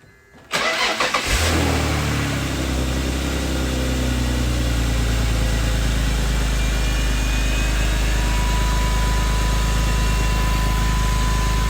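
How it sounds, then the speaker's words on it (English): A BMW 330xi engine cranks briefly, catches and settles into a loud, steady idle that runs on evenly, close and alone. "I start the engine and let the engine run for a bit"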